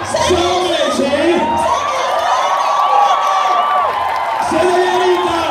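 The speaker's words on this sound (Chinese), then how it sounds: "我们掌声欢迎" A crowd at a Taipei rally for legalizing same-sex marriage cheers and applauds loudly and steadily, with whoops and shouts rising over the noise while a voice speaks over a loudspeaker.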